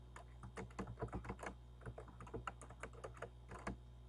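Computer keyboard keys tapped in quick irregular bursts while typing into a Word 2010 document header, close and fairly quiet over a steady low hum, with short pauses between runs.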